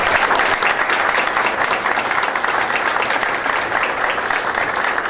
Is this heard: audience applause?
yes